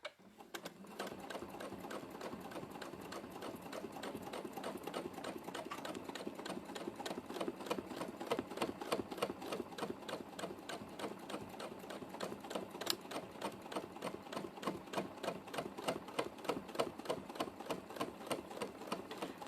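A sewing machine free-motion quilting with metallic thread and a blunt needle runs steadily for the whole stretch, a fast, chunky, rattling mechanical stitching rhythm, close and even, with no voices.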